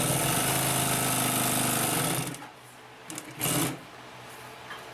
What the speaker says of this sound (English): Now we're going to get into a little bit heavier sewing.